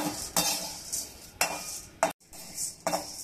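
Bhajani grains, chana dal and toor dal among them, are roasted dry in a pan while a spatula stirs them, giving repeated scraping, clinking strokes at an uneven rhythm over a soft gritty rustle, close by with no talking.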